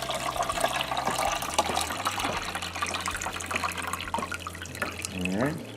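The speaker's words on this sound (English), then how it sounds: "then we're going to fill the rest of the way up with just regular water." Tap water runs steadily into a travel mug already holding vinegar, filling it for a cleaning cycle of a Ninja Coffee Bar, with a rising pitch near the end as the mug fills; someone talks over the flow.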